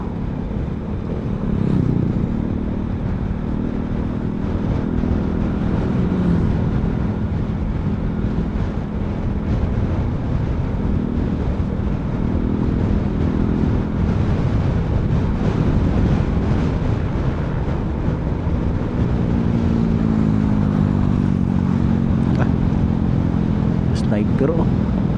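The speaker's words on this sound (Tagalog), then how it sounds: "Kaya ng motor yan." A Euro Rock R125 motorcycle engine drones steadily on an uphill road, its hum constant and close beneath heavy wind buffeting on the microphone throughout.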